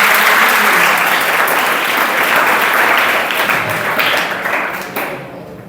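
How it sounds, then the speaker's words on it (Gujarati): A school audience claps loudly in sustained applause that gradually thins and fades toward the end. "ફરી વખત એક વખત તાળીઓના અભિનંદન સાથે"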